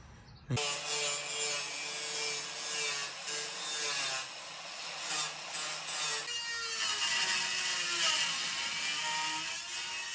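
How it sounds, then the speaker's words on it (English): An angle grinder cuts out the rusted bottom of a Mazda Miata rocker panel near the pinch weld, a loud, continuous whirring grind that starts abruptly and holds steady with shifting pitch, no voices over it. "I'm about to cut out the rest of this bottom part with the angle grinder"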